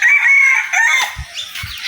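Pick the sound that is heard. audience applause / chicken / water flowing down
chicken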